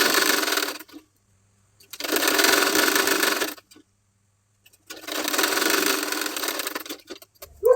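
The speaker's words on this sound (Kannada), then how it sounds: "ಆಮೇಲೆ ಈ ಬಾರ್ಡರ್ ಮೇಲೆ ಮತ್ತೆ ಒಂದು ಸ್ಟಿಚ್ನ ಮಾಡ್ಕೊಳ್ಬೇಕೀಗ." A sewing machine stitches a second line of stitching along a border attached to the pleated part of a sleeve, running in three sustained bursts of close whirring separated by short pauses.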